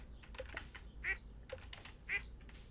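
A duck in the farming video game Stardew Valley Expanded quacks twice, short and fairly faint, over soft clicking of keys and mouse, with no talk.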